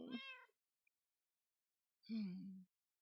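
A cat in the Minecraft video game meows twice, clear and close, with a short meow followed after a silent gap by a longer, lower one.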